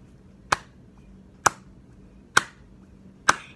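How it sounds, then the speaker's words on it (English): Four sharp, evenly spaced hand claps, about one per second, keeping the beat for a children's birthday song. The claps are close and crisp over a quiet background. "I'll clap the beat."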